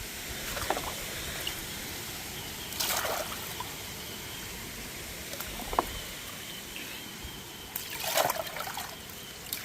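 Water splashes and trickles over creek gravel being washed down during gold prospecting in a Melbourne creek, in a few distinct bursts over a steady background of running water.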